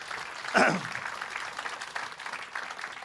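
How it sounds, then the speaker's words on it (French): Audience applause at a French stand-up comedy show, a brief burst of clapping that swells early, then thins into scattered clapping under a speaking voice on stage. "vous pouvez applaudir Samy et sa famille"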